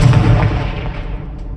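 A Confringo spell blast in the Hogwarts Legacy video game, a single loud, close boom with a heavy low thump that decays quickly over about a second.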